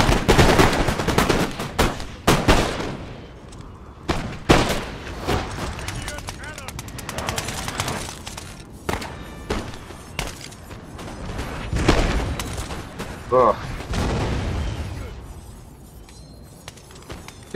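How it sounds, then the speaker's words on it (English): Skirmishers in a video game open fire with muskets in a scattered series of sharp cracks and booms, some near and loud, others fainter, spread unevenly over the stretch with battle noise between them. "So I've got skirmishers opening fire on the enemy."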